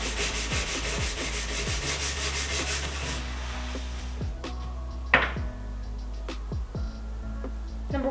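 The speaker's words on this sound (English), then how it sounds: "I'm gonna dip a little bit in here and scrub" A cloth or pad scrubs back and forth over a wood furniture finish being stripped with acetone, giving steady rhythmic rubbing strokes up close, then a sharp knock and slower, scattered scrubbing.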